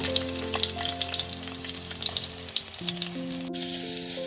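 Sliced onions hit hot oil in a heated clay pot, setting off a steady crackling sizzle with frequent sharp pops, close and clear, over a faint steady hum.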